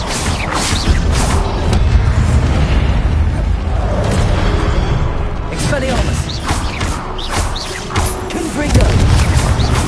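Hogwarts Legacy spell combat with the Confringo fire spell exploding, heavy booms and rumbling blasts recurring loudly over a dense, busy game mix throughout.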